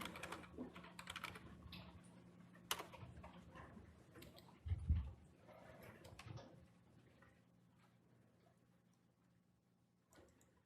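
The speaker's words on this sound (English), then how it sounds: "So type in information systems." Rapid typing on a computer keyboard as search keywords are entered into Google: quiet, irregular clicks and taps in bursts, with a slightly louder cluster midway, no talking.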